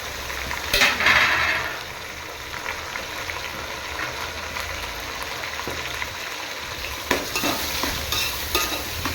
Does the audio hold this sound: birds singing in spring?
no